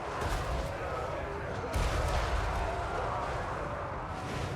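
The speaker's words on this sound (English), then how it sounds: "got some real nice shots with the flame cannon up here into the Aspiring Champs" Flame cannon firing during a Total War Warhammer 3 battle, a roaring, rumbling blast with a heavy thump midway, set within a dense battlefield din under faint talk.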